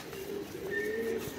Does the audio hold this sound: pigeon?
yes